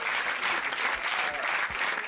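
Dense, continuous applause from an audience at a broadcast of Israel's Beresheet lunar landing, loud and sustained with a voice faintly beneath it.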